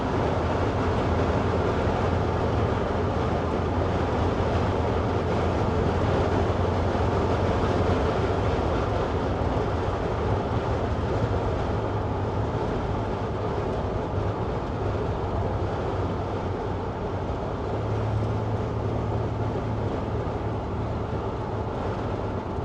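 A 1946 Chevy pickup truck engine running while driving at highway speed, a steady loud drone with road and wind rumble that stays constant throughout, no talking.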